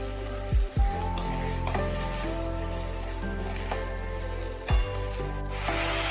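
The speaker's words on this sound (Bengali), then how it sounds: "তেলের সাথে ভালোভাবে নাড়াচাড়া করে" Eggplant being stirred in hot oil in a pan for a coriander eggplant dish: a steady, close sizzle with scraping spatula strokes and a few louder knocks as the pieces are turned.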